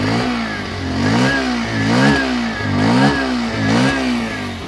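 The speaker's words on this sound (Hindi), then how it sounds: "आइडियल कंडीशन पर इंजन साउंड, एग्जॉस्ट नोट थोड़ा लेता हूँ।" A Bajaj Pulsar 125 motorcycle engine and exhaust are revved repeatedly, rising and falling in a steady rhythm of about five throttle blips, close and loud with no talk.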